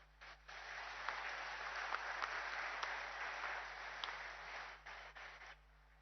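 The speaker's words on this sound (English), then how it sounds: "Have some claps." An audience at an inauguration ceremony at HAL claps together in a steady, moderately distant round of applause that swells quickly, holds for several seconds and then tapers off.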